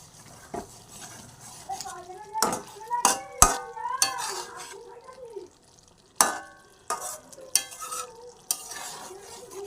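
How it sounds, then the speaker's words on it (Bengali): Fish curry with slit green chillies is stirred in a pan: intermittent close scrapes and sharp clanks of a spoon against metal, with soft simmering sizzle between strokes and no speech. "একটু নেড়ে চেড়ে দেবো"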